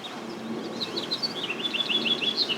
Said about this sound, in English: Got two goldfinch feeding there.